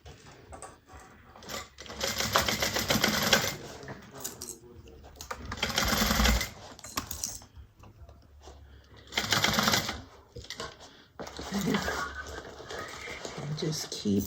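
A sewing machine stitches a bag in several loud, rapid bursts of mechanical whirring and clatter, with pauses between them and a person talking throughout.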